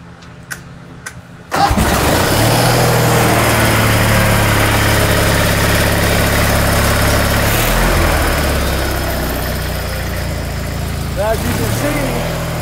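An old Allis-Chalmers tractor engine cranks and catches at about 1.5 seconds, then runs steadily at a loud, close idle with a slight dip in pitch midway; faint voice before the start.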